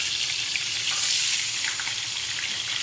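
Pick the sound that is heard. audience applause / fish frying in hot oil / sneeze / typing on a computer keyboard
fish frying in hot oil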